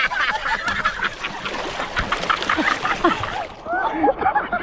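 Water splashes and sloshes steadily for several seconds, loud and close, with scattered short chirping sounds mixed into the busy spray.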